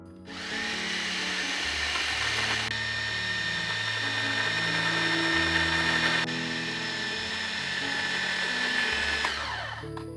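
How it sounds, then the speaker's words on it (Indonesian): Food chopper blending peanuts with steamed red sweet potato, running in loud whirring bursts whose pitch shifts as the blades churn, with a brief pause between pulses. "Habis itu kedua bahan ini mau aku chop lagi sampai teksturnya halus."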